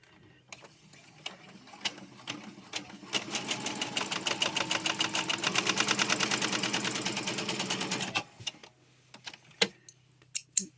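A sewing machine runs steadily for about five seconds, hemming the edge of a fabric face mask, its rapid needle ticking even and close, with a few isolated clicks and handling knocks before and after.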